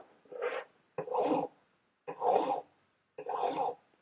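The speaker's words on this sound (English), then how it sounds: "I'm going to use my hand file in forward motions, keeping my hand nice and flat" A hand file rasps across a ring held flat in a ring clamp, four distinct forward strokes about a second apart, close and dry, with silence between each pass.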